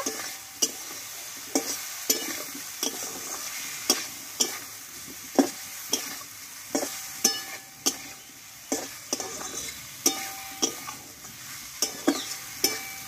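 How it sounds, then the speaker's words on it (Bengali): A spiced drumstick curry is stirred and sautéed in a pan, with regular spoon scrapes roughly every half second over a steady low sizzle, close and fairly loud with no talking. "আরও আমি 2 মিনিট মতো ভালোভাবে কষিয়ে নেব।"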